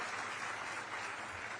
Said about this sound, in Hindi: तालियां बजती रहनी चाहिए आपकी।